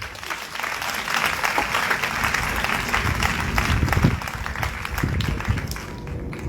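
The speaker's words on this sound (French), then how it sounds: "Acclamons le Seigneur Jésus" A church congregation breaks into loud, sustained applause, dense clapping from many hands filling the room for several seconds before easing slightly at the end.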